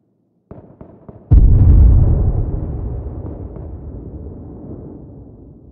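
A grenade goes off in a video game: a few small clicks, then one loud, close blast whose rumble slowly fades over several seconds, with no talk.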